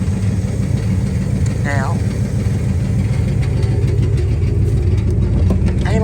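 A Pontiac GTO engine, running again after sitting parked for 30 years, idles with a steady low rumble, close and loud, while someone speaks briefly over it.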